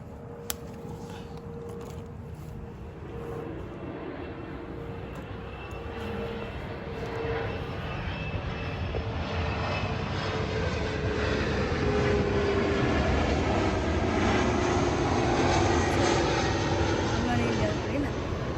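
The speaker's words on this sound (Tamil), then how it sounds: "மேலுக்கு தூக்கமாக பிளேன் போகிற சத்தம்" A plane passing high overhead above a home garden, its broad engine roar slowly swelling and holding steady throughout, heard at a distance.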